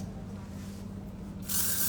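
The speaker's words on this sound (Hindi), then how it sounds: "लाइट स्प्रे है।" Light hairspray from an aerosol can is sprayed onto hair in a sudden, loud burst of hiss. It starts partway through, after a quieter stretch of room noise.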